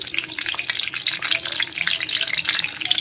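Bay leaf with dried and fresh green chillies frying in hot oil, making a loud, dense, crackling sizzle that stays close and continuous throughout.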